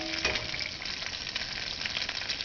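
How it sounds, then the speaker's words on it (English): An egg fries in a pan alongside wild hog meat, giving a steady, close hiss of sizzling grease with faint crackles throughout and no voices. "I'm going to put a little egg in there."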